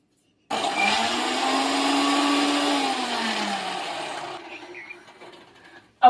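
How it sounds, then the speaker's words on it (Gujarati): A kitchen mixer grinder in a home runs with a loud, steady whirring drone that starts abruptly, holds for about four seconds, then winds down and fades to near silence. "મિક્સર ચાલુ કરું"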